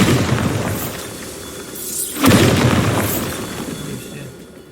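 A Bombardo spell explodes in Hogwarts Legacy with a single sharp, loud blast midway, its boom fading over a rumbling game background with faint shimmering magic effects.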